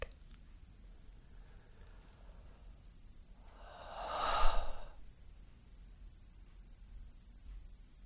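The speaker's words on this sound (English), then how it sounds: "Still breathing into the solar plexus area" Breathing during a guided meditation focused on the solar plexus: one slow, soft exhale that swells and fades like a sigh, heard close and alone against a faint hiss.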